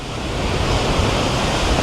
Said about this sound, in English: It's pretty windy up here on the west side.